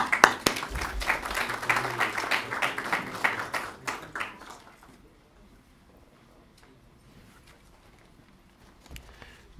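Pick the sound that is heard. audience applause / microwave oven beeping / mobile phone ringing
audience applause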